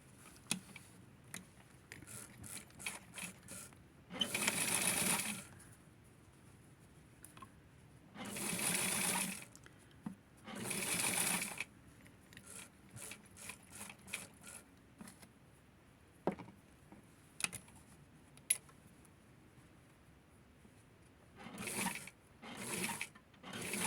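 A sewing machine stitches felt doll clothes in several separate runs of whirring, each a few seconds long, with quiet clicking and handling sounds between them.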